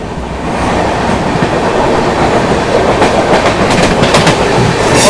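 The 13005 Howrah–Amritsar Mail passes close by: a loud, continuous roar of coaches with rhythmic clickety-clack of wheels over rail joints, steady throughout, with no talking.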